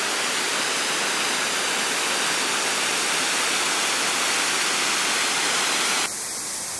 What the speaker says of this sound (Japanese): 今日天気がいいから、なんか滝もいつも以上に気持ちいいですね